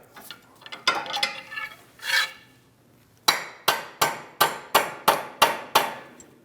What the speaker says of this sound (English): We're going to give our axle a few taps, and then pull it out through the back.